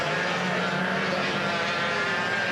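Racing motorcycles at a 1999 European championship round in Valence, with engines accelerating in a continuous, dense, loud roar that holds steady throughout and has no voices over it.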